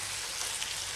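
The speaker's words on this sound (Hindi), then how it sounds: "आलू और लहसुन अदरक का पेस्ट भुना जा रहा है, और साथ में किनारे में कीमा भी तला जा रहा है" Chicken mince, potato and ginger-garlic paste fry together in a pan over a medium flame, giving a steady, close sizzle with a fine crackle that holds even throughout, no voices.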